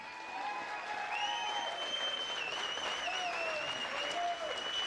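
A boxing crowd at an amateur fight gives sustained applause and cheers for both fighters in the ring, with dense clapping over faint arena tones.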